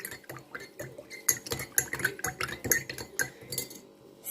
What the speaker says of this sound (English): add a juice of lemon, and again stir it well